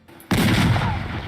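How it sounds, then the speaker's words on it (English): A single loud cannon blast as a sound effect, a sudden heavy boom that hits at once and rumbles steadily for about a second before cutting off, up close and alone. "You shot the cannon for the day."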